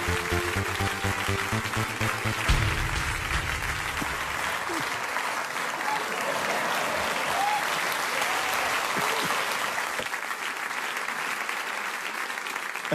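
A German late-night comedy studio audience breaks into loud, sustained applause that fills the room, with some cheering and brief other sound at the start.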